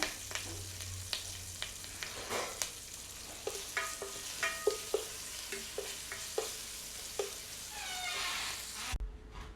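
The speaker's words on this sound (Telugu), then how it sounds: "కొంచెం కరివేపాకు ఫ్రై చేసుకోవాలి." Curry leaves fry with a pinch of asafoetida in a tempering for ridge gourd peel chutney, a faint, close sizzle punctuated by regular spoon taps and scrapes.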